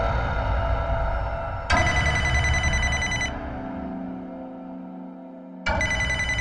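An electronic phone ringtone plays loud and close in bright, sustained bursts. It cuts to a quieter lower tone for a couple of seconds, then the ringing starts again.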